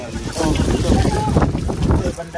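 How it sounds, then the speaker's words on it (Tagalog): Strong wind buffets the microphone with a loud, rough rumble at a campsite, while voices talk over it amid outdoor water sounds. "lakas ng hangin"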